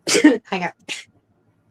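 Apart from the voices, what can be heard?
sneeze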